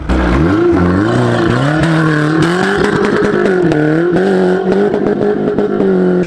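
A BMW E46 fitted with tractor tyres revs hard as it drives through mud, the engine note rising and wavering with loud, continuous strain and scattered clatter, close up.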